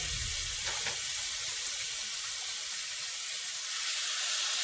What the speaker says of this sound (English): So I'm just going to lay a whole piece in there and let it start searing up.